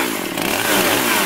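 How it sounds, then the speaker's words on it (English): A loud, raspy motor roars steadily, like a chainsaw running up close, with no voices. "I got my chainsaw ready."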